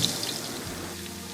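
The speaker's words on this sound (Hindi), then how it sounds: "अब उसी तेल में अदरक लहसुन को फ्राई करेंगे।" Steady, dense sizzling and crackling of ginger and garlic frying in hot oil, continuous and fairly close, with no voices.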